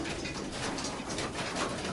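Young pigeons cooing in a loft, a dense, continuous murmur of soft coos from many birds close by, with no voices.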